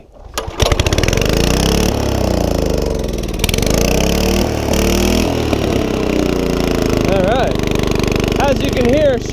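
A HORSE rototiller engine starts after a pull and settles into a loud, rough, continuous roar, its pitch sweeping and wavering as the engine revs, close and dominant throughout.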